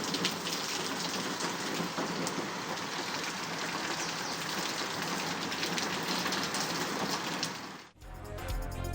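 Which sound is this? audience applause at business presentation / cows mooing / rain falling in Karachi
rain falling in Karachi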